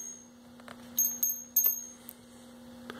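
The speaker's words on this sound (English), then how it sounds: "See my little Guardian bell?" A small Guardian bell, the kind hung on a motorcycle, giving a few light, quick tinkling rings over a steady background hum, loudest in a cluster near the middle.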